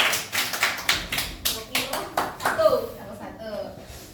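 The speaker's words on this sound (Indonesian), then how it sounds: "tepuk tangan untuk kelompok 1" Classroom students clapping for a presenting group, a run of about a dozen distinct claps in a loose rhythm, close and loud, with a voice speaking near the end.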